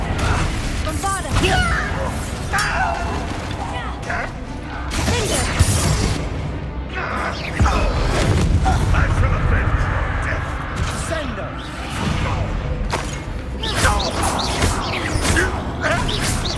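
Magic blasting spell explosions in Hogwarts Legacy, loud crashing booms and bursts in a cavern full of webs among goblin enemies, repeated through a dense busy mix with talk over it.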